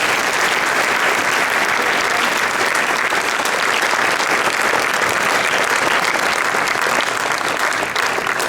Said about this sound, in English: Please give Iqra another round of applause.